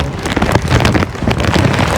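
Heavy rain pours down in a downpour, a dense, loud and steady wash of drops spread over the whole moment, with some wind buffeting the microphone and no speech.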